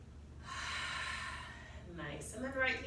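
Slow deep breathing during a seated chair yoga session: a long, airy inhale builds and holds, then a softer breathy exhale through the mouth trails off, close and fairly quiet.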